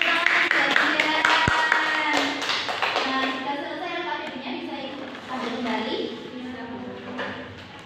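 Children clapping together in a primary school classroom during a sixth-grade science lesson, a dense burst of taps under a teacher's talking, fading after a few seconds while speech continues.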